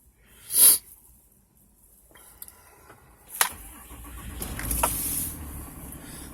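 A 2008 Dodge Ram 3500 Mega Cab with a Cummins diesel sits quietly with a short hiss and faint clicks, then cranks with a sharp burst and settles into a low, soft diesel rumble.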